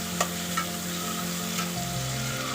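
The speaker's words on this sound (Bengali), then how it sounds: "এটাকে ভালো করে নাড়িয়ে নিতে হবে। টমেটোটা একটু নরম হওয়া পর্যন্ত কিন্তু আমাকে টমেটোটাকে ভাজতে হবে।" Tomatoes fry and get stirred in a pan, a continuous close sizzle with a few soft scraping strokes of the spoon.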